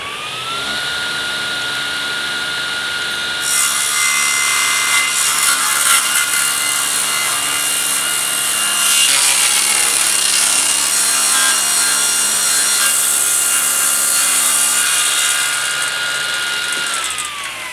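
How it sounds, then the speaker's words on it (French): A power saw rips lengthwise through wooden pallet studs, cutting them to 8 cm width, a loud continuous whining buzz that holds steady for many seconds with slight pitch shifts as the blade bites, no talking. "Puis je scie la face opposée à 8 cm."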